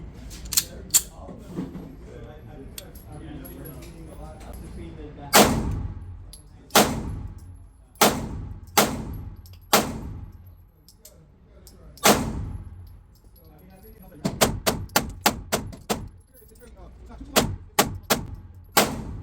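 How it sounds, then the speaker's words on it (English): Springfield pistol firing 124 grain rounds outdoors gives a string of sharp, loud gunshots at irregular intervals, with a quick burst of several shots toward the end and quiet gaps between. "Gonna shoot the 124s out of that, and then we're gonna move over to the 115 grains."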